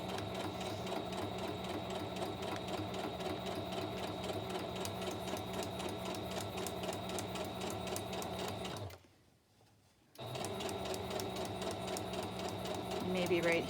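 A sewing machine runs steady straight and back stitches through journal pages, a fast even mechanical whir with a brief pause in the middle before stitching resumes, close and moderately loud.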